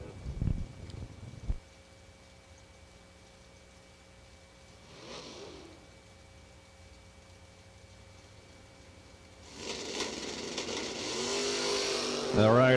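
A clean Mustang drag car with a small rear slick launches and accelerates hard down the drag strip, its engine rising loud and broadband near the end after a quieter stretch of distant crowd and track noise.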